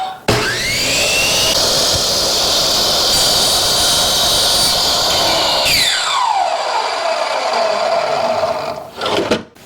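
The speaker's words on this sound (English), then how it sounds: "Then I can cut the square end to match." A miter saw cuts motorhome interior trim in a 25-year-old motorhome, with a loud, close motor roar that spins up, holds steady through the cut for several seconds, then winds down.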